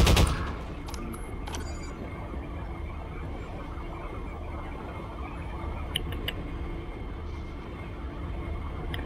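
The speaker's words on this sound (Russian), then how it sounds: "вот этот автомат, импульсная винтовка, очень напоминает пулемет стационарный" A pulse rifle in Half-Life 2 fires a sustained, rattling stream of shots after a few sharp opening bursts, fairly loud and steady throughout with no talk.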